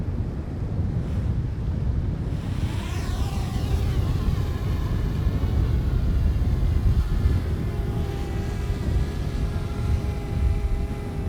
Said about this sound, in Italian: Iniziamo con il DJI Mavic Air e vediamo come resiste in hovering.